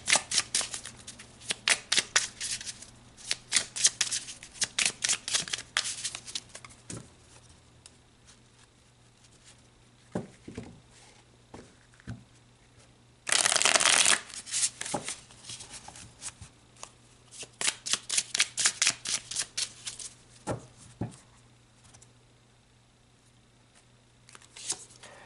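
A deck of tarot cards is shuffled in several bursts of brisk riffling and pattering close by, with one loud riffle near the middle and quiet gaps between the bursts.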